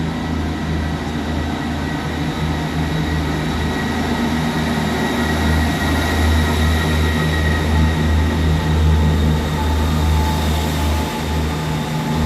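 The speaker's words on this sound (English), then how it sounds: "we see the departure of 158758, working the 1627 Northern service from Halifax through to Hull." A Northern class 158 diesel unit, 158758, pulls out of Selby station with a loud, continuous engine drone and a low rumble that holds steady throughout, with no voices.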